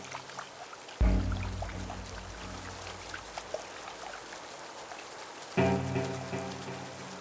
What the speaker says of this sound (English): Torrential rain begins to pour on the Masai Mara.